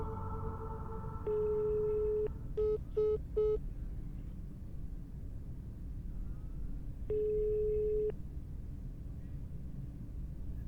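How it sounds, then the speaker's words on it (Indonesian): An outgoing phone call rings unanswered, with a couple of long electronic ring tones and a quick burst of short beeps between them over a low background hum. "Aku dari tadi telepon Kanisa nggak diangkat, Din."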